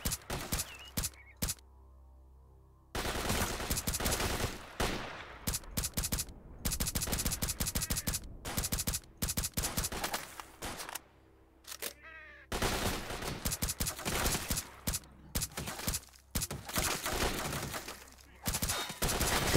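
Gunfire in S.T.A.L.K.E.R. Shadow of Chernobyl, with rapid bursts of loud automatic shots broken by short silent gaps as the weapon jams, repeating throughout.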